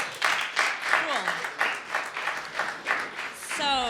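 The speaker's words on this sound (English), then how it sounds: "Why don't we give ourselves a round of applause" Applause from a community meetup crowd, a steady patter of clapping with a few whoops and voices mixed in, moderately loud throughout.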